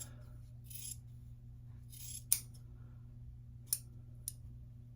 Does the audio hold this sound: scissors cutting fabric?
yes